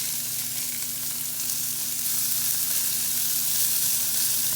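A burger patty for a garlic and onion burger fries in a pan with a steady, close, bright sizzle and crackle that stays even throughout, with no talking.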